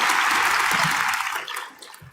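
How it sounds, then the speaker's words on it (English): Audience applause for a former Prime Minister at a Think Tank 2020 event during a Rally of Hope, a dense wash of clapping that holds steady and then thins out toward the end. "let us send a warm round of applause to former Prime Minister."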